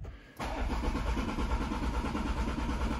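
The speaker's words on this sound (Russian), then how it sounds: "Пытаюсь запустить машину, что у меня сейчас не получится." A BMW with an automatic gearbox cranks on its starter without catching: a brief quiet, then an abrupt, steady, close whirring churn that continues for over two seconds, with no voices.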